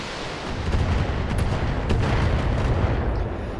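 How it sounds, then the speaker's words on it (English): A volley of missiles fires in the Battletech video game as a dense, rumbling barrage of overlapping booms and thuds, loud and continuous for several seconds. "here comes his last volley of missiles"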